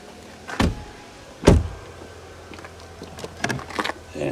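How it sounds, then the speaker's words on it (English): Two sharp mechanical clunks from the charge port door of a BYD Atto 3 electric car, about a second apart, followed by softer clicks and light handling noises, with no talking. "Yeah, the door opened."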